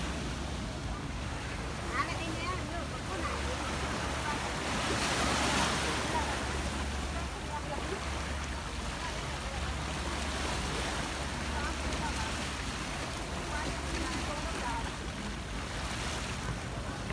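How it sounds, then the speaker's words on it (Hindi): Ocean waves on Palawan Beach at Sentosa, Singapore, a continuous wash of surf with a gentle swell midway, mixed with wind buffeting the microphone and a low rumble throughout. "लहरों की आवाज़"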